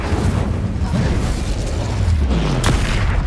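Incendio fire spell cast in combat in Hogwarts Legacy on PC, a loud whooshing burst with a sharp crackling flare near the end, set amid a steady rumble of battle noise.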